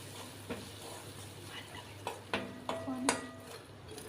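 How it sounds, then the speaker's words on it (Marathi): A spoon scrapes and stirs garam masala and red chilli powder frying in hot oil for a spicy coriander-fritter curry, with a low steady sizzle and a few distinct clinks against the pan. "त्यानंतर गरम मसाला त्यानंतर लाल तिखट टाकायचं आणि सर्व परतून घ्यायचं"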